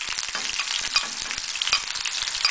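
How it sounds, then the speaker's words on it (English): Onions and curry leaves fry in a mix of melted ghee and oil for a pakora kadhi, giving a loud, dense crackling sizzle with frequent popping spatters and no talk. "Once the ghee has melted, add the onions, the curry leaves,"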